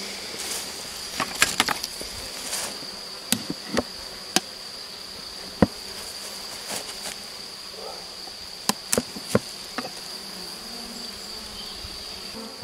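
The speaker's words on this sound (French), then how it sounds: "il y avait beaucoup d'abeilles" Honeybees hum around a hive in a steady, high buzzing drone, with sharp clicks and knocks scattered throughout.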